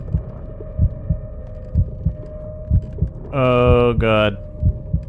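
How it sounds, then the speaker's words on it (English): A loud, steady heartbeat thumps in regular double beats during a panic attack in the video game Call of Cthulhu, under a constant low hum. A voice briefly exclaims midway. "I can hear his heart beating in my ears. And it's getting faster."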